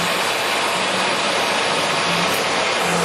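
A Republic Lagun 16-by-60-inch lathe with a 10-inch three-jaw chuck spins at 2,000 RPM, giving a steady, loud broadband whir with a low hum underneath, continuous and unbroken throughout.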